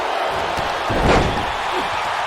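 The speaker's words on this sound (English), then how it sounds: "once they hear the door close and see the official lock" A steel cage door slams shut at a professional wrestling match, one loud metallic bang about midway through, ringing over a steady arena crowd murmur.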